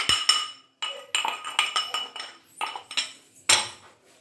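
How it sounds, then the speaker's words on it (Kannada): Maida flour, salt and crushed black pepper mixed in a bowl for chicken Manchurian, a spoon striking the bowl in a quick irregular series of close, bright clinks and taps, with no talking. "ಇದೆಲ್ಲ ಚೆನ್ನಾಗಿ ಮಿಕ್ಸ್ ಮಾಡ್ಕೊಂಬಿಡೋಣ"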